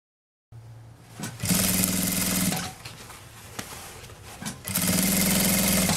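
A sewing machine stitches a seam on a handmade bag with the strap and flap folded up. Two sustained runs of rapid mechanical whirring are separated by a quieter pause, close and loud.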